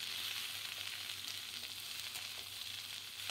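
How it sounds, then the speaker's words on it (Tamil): Okra sizzles gently in oil on a low flame as it is stir-fried, a continuous soft crackling hiss with faint stirring scrapes and no talking. "இப்போ வெண்டைக்காயை சேர்த்துட்டு ஸ்டவ்வை லோ ஃப்ளேம்லேயே வச்சுக்கோங்க. இந்த மாதிரி லைட்டாக இந்த மாதிரி கிளறி விட்டுக்கிட்டே இருக்கணும்."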